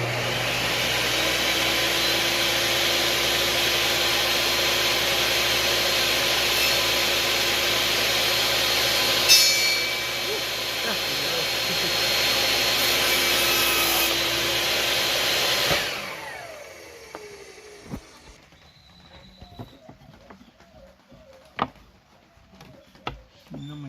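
Power saw cutting wooden moulding for an arched door, a loud steady whine for about sixteen seconds that then cuts off, followed by quieter scattered knocks and handling noises.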